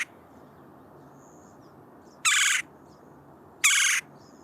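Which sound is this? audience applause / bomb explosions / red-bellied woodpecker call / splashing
red-bellied woodpecker call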